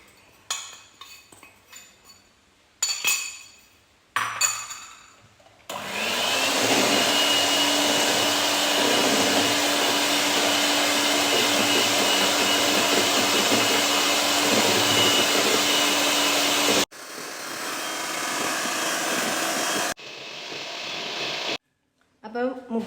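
An electric beater whisks eggs for a dream cake, a loud steady whir running for about ten seconds, framed by clinks of utensils against a bowl before and after.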